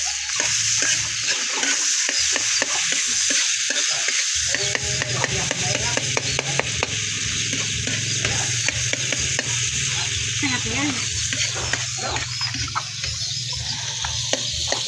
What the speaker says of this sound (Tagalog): gigisa ko siya sa star margarine. Lalagay ko yung sili.